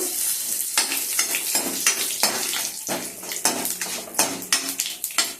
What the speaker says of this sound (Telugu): అదే ప్యాన్లో ఆయిల్ వేసుకొని తాలింపు వేసుకోవాలండి